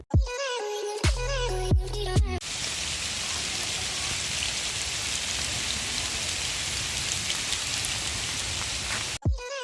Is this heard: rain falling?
yes